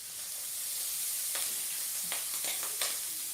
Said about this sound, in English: Yeah, the shrimp stir fry